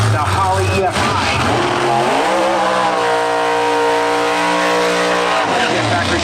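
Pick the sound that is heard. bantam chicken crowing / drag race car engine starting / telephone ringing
drag race car engine starting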